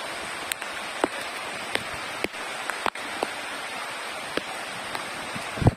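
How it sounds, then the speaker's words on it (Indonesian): Heavy rain pours steadily onto a bamboo shelter at a camp, a dense continuous hiss with scattered louder drips and taps hitting close by, and no voices. "Kita ni hujan lebat."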